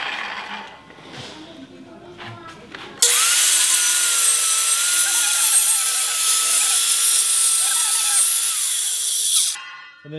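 A power planer shaves down the sides of a wooden barn column, starting abruptly after some faint background knocks and running as a loud, steady high-pitched whine with cutting rasp before cutting off near the end.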